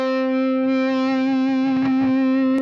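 Electric guitar played through an amp with heavy gain, a sustained distorted chord ringing steadily with thick harmonics and a few picked accents near the end, loud and close.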